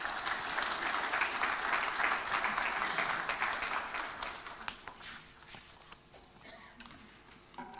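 Audience applause at a formal university ceremony, dense and fairly close clapping from a crowd that holds for about five seconds and then tapers off into scattered claps.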